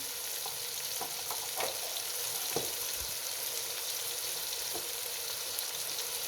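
Spices such as coriander powder, red chilli and turmeric frying in oil for bhindi masala, a steady soft sizzle with occasional stirring scrapes and clinks, no talking.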